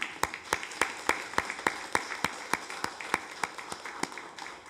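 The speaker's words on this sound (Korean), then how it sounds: "오랜만에 오셨는데 박수 하겠습니다" Sparse clapping from a church congregation during a Sunday worship service greets returning members, a slow, steady series of individual claps, fairly faint and evenly spaced, with no talk over it.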